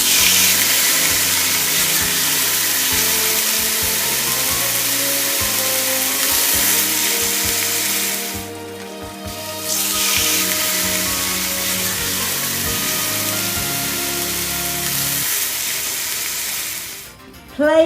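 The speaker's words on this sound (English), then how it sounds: "Now sear the meat on all sides to seal in the delicious juices." Tri-tip beef searing on a charcoal grill: a loud, steady sizzle hisses close up for most of the time, dipping briefly midway before resuming at full strength.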